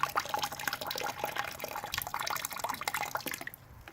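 Wort drips and trickles steadily out of rinsed grain in an all-grain amber ale brew, a continuous close splashing of liquid that thins toward the end.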